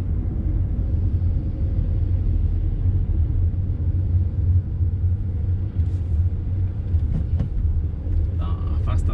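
A truck on a cloudy, cool highway between Guapiara and Apiaí rumbles nearby with a steady, heavy low drone that stays constant throughout, with a few brief rattles and clicks near the end.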